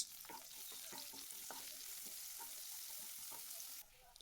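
Onion pieces frying in oil with ginger and green chili, a continuous soft sizzle broken by rhythmic stirring scrapes, fairly quiet and close, dropping off just before the end.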